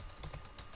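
Quick, light keystrokes on a computer keyboard while entering HTML code, a short close burst of irregular taps with no voices.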